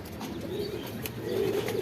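Pigeons coo in a soft, low murmur close by, a continuous throaty warble with no voices.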